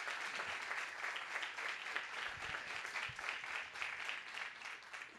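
Audience applauding for author Ignácio de Loyola Brandão at a book fair event, a steady, moderately distant wash of clapping sustained throughout.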